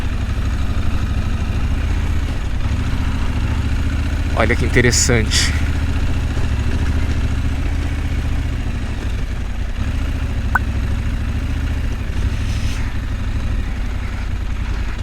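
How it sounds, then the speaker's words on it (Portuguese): A motorcycle engine rumbles low and steady throughout, near and continuous, with a brief burst of clatter partway in and a person speaking over it. "Ó o roncão da moto."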